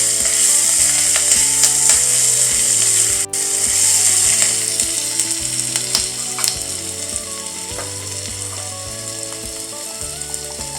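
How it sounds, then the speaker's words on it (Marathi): Snake gourd curry is stirred in a pan after the lid comes off, with a loud, close sizzle and repeated scraping and rattling of the spoon against the pan over about eleven seconds. No one speaks. "आता मी एकदा झाकण काढून परत एकदा आपली भाजी हलवून घेणार आहे"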